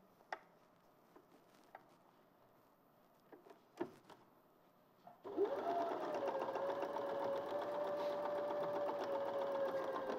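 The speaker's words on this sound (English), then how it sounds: "Sewing over the pins, which you should never do, really." A sewing machine stitching a seam straight over dressmaking pins: a few soft handling clicks and taps, then the motor whirs up loud and runs steadily and close in one continuous stitching burst.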